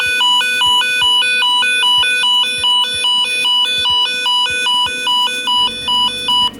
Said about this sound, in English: And then the warning siren.